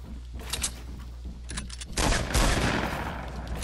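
Gunfire in the Fortnite video game, a sniper shot among a burst of rapid game weapon fire, loud and dense, building into a sustained clattering barrage near the end.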